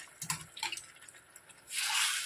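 Steamed water tipped into a pan for a village-style green moong dish with bottle gourd and cluster beans: a few close drips and clinks, then a short, full gush of pouring liquid at the end.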